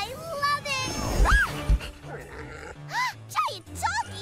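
A giant cartoon dog barks in a few loud, booming yelps, mixed with excited children's voices and squeaky animated sounds.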